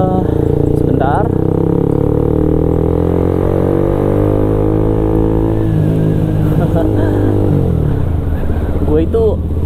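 A Honda CBR K45A motorcycle revs steadily while overtaking, its mid-pitched engine note rising and falling continuously under constant road and wind noise, close and loud.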